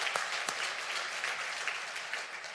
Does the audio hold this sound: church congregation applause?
yes